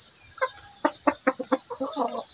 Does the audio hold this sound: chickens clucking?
yes